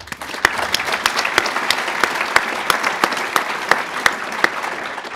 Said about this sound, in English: Let's have one more clap.